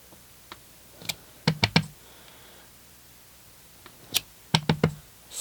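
A rubber stamp is pressed in black ink onto grid paper while making a card topper, giving a run of sharp taps and knocks in small clusters, close and fairly quiet, with no one talking.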